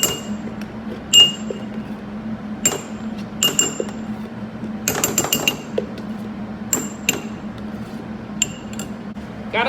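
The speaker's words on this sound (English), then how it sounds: "You do want to shake this really well." A sriracha bottle is shaken in a kitchen, giving sharp, irregular knocks and clinks in short clusters over a low steady hum.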